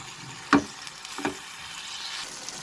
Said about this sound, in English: I will increase the flame to high and I will saute and cook this for 1 minute.